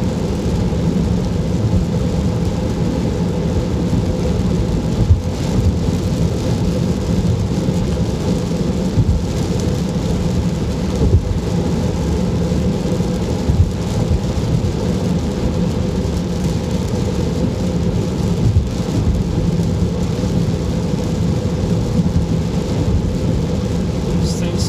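Heavy wind and rain buffet an electric car driving at night on Interstate 70, a loud continuous roar with rain drumming on the car, steady throughout.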